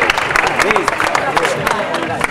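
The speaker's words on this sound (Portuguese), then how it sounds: "Salve de palmas, Eduardo da Vini Pena." A crowd claps for a rider at an equestrian show in 2008, steady applause heard close and fairly loud, with a voice talking over it throughout.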